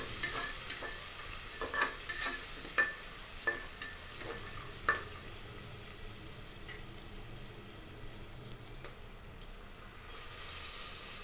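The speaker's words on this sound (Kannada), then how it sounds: "ಈರುಳ್ಳಿ ಹಾಕ್ತಾಯಿದ್ದೀನಿ ಅದು ಸ್ವಲ್ಪ ಫ್ರೈ ಮಾಡ್ಕೊಂಡ ನಂತರ ಬೇರೆ ತರಕಾರಿಗಳು ಒಂದೊಂದು ಆ್ಯಡ್ ಮಾಡ್ತಾ ಹೋಗ್ತೀನಿ ನಾನು" Onions fry in oil in a pan with a steady sizzle while a utensil stirs them in a run of scraping knocks, close and moderately loud, with no talking.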